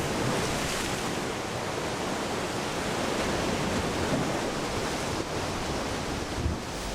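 Steady roar of ocean surf breaking along a rocky Galápagos shoreline, a dense continuous wash of crashing waves at close range with no voices, filling the whole stretch evenly.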